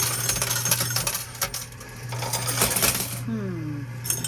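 Coins drop and clatter in a high limit coin pusher arcade machine, a dense run of metallic clinks over a steady machine hum in a noisy arcade.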